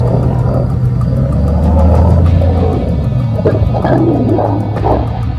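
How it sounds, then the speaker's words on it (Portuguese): Mapogo lions fight in the wild, with deep, continuous rumbling roars and snarls that sound loud and close, rolling on without pause. "A gente viu uma nuvem de terra e ouviu rugidos e rosnados."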